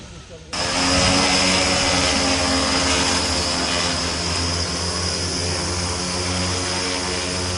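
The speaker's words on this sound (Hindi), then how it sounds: "अब ड्रोन से फसलों पर होगी कीटनाशक का छिड़काव" An agricultural drone spraying pesticide over crop fields near Muzaffarpur starts up with a sudden loud, steady whirring drone that holds evenly until the end.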